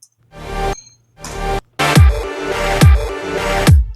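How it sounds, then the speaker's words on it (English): A supersaw synth reverb tail is cut and reversed, so each swell builds and sucks inward, with several loud bursts and pulsing low hits in a melodic dubstep arrangement. "I cut it and reverse it so it gives this sucking sound like this one here"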